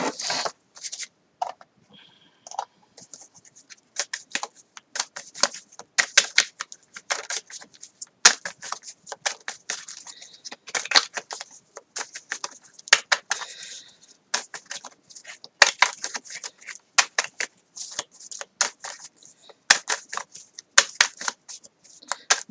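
Tarot cards drawn and handled from a deck give rapid, crisp papery clicks and flicks in irregular bursts, close up and with no talking.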